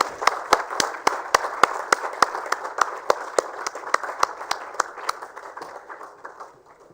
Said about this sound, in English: Can we have a big round of applause for them as well?